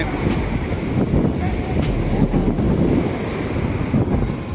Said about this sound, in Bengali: আবার জোয়ারের জল উপরে উঠে গেল জোয়ারে কিছু লোক স্নান করতে নেমেছে জোয়ারের জলে একবারে টেনে নিয়ে যাচ্ছে আবার ঠেলে উপরেও তুলে দিচ্ছে